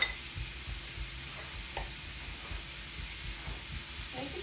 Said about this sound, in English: adding in onions